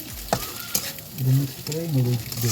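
Noodles and vegetables fry in a pan while being stirred, a close, continuous sizzle broken by scraping strokes, with a voice speaking over it.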